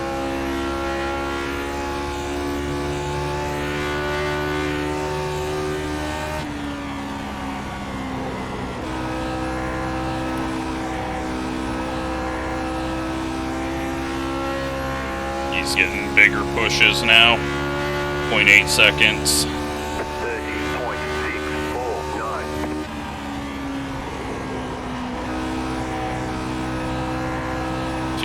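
A vintage Grand Prix race car engine in the racing game Grand Prix Legends at Charlotte Motor Speedway drones steadily at speed, with pitch rising as the revs climb and a brief burst of other cars passing, while someone talks over it.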